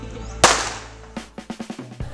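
A pyrotechnic explosion effect set off on the set of a Thai TV series: one sharp, loud blast with a lingering decay, followed by a quick string of smaller crackling pops.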